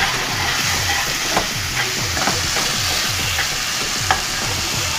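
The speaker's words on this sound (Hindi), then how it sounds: "2 टमाटर है वो इसमें डालकर इसे भी भून लूँगी।" Chopped tomatoes frying in oil in a pan for a drumstick vegetable curry, a steady close sizzle with repeated stirring scrapes at a regular rhythm, no talking.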